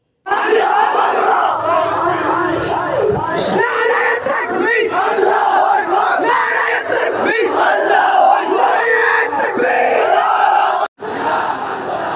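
A protest march against the Waqf bill at Domkal's bridge crossing, where a large crowd chants and shouts loudly and continuously. The voices stay dense and close, with a brief drop near the end.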